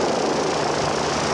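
A helicopter flying over an off-road motorcycle race in the African mountains, heard as a steady, loud rotor and engine drone that fills the short stretch without a break.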